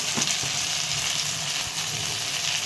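Masala sautéing in hot oil in a pan for a village-style stuffed modak curry, giving a steady, close, even sizzle with no talking.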